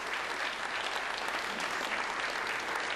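A studio audience claps warmly and steadily throughout, a dense sustained applause at fairly close range with no break.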